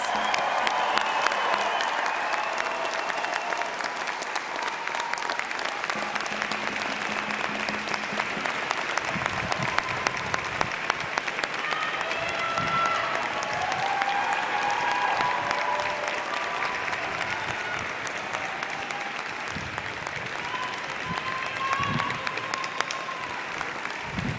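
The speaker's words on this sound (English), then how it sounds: "please join me in applauding the June 2022 graduates of the Faculty of Science." A large audience at a university convocation ceremony applauds the Faculty of Science graduates, a dense, sustained wash of clapping that holds steady throughout, with a few faint cheers and murmurs mixed in.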